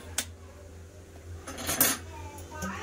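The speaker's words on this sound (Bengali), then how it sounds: "আমি কড়াই বসিয়ে দিলাম।" A metal kadai is set down on a gas stove while cooking chicken badam bahar, giving a sharp clank followed a moment later by a cluster of clattering metallic knocks, fairly quiet against a low kitchen hum.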